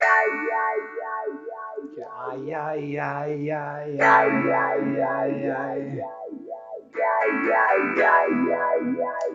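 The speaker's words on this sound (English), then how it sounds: "So this has a vowel sound that's controlled by an LFO." A Sonuus pedal running an LFO-controlled vowel filter produces a rhythmic wah-like sweep over a distorted, chorused tone, pulsing steadily while other notes and layers come and go.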